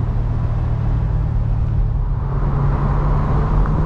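Corvette C8 cruising at speed on a freeway, a steady loud engine and road rumble with constant tire and wind roar throughout, no talk.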